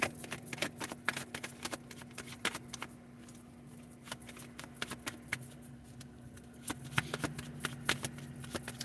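Tarot cards are shuffled up close in quick, repeated riffles and slaps, with a short lull partway through, over a faint steady hum.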